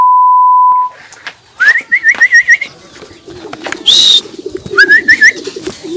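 A pigeon loft where racing pigeons are returning: a single clear tone first, then several bursts of pigeon cooing with soft wing and shuffling sounds close by.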